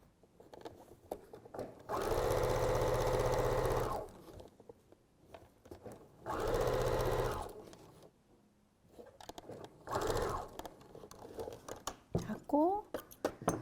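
A sewing machine with a right-side presser foot sews a concealed zipper into a handmade dress, running in two sustained loud bursts of steady whirring and then a shorter third run, with quieter handling sounds between.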